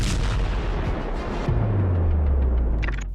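Heavy war explosions and artillery blasts rumble continuously, with a deep booming roar and a sustained low rumble after a larger blast midway, loud and dense with no voices.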